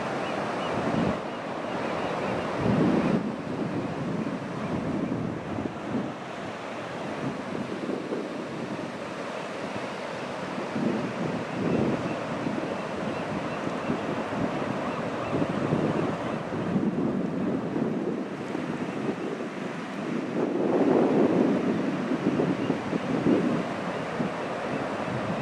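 Pacific Ocean surf washes onto the shore, a continuous broadband roar with gentle swells in loudness as waves break, mixed with steady wind buffeting the microphone and no voices.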